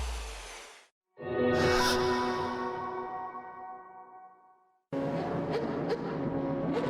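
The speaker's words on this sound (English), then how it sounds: "So cars on the grid here at Spa-Francorchamps, ready for the second attempt to get this race underway here" World Series by Renault race cars sit on the grid at Spa-Francorchamps. Their engines rev loudly into a high whine that slowly fades, then cut briefly to silence before another strong burst of engine noise rises.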